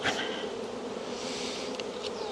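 Honeybees buzz from an opened hive that holds brood and nectar, a dense steady drone close by, with no talking over it.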